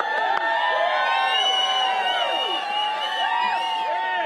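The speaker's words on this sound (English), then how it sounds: "Cheer for Austin, come on." A crowd at a Christmas tree lighting event in York cheers for a boy named Austin, with loud sustained shouting and high whoops from many voices, children among them, close and continuous.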